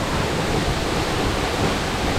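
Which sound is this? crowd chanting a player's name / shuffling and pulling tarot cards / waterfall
waterfall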